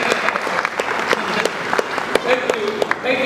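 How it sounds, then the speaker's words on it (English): Audience applause at a public talk on the founding of Nigeria: steady, dense clapping from a sizeable crowd for just over three seconds, with some louder individual claps standing out and voices mixed faintly in. "So now you can clap."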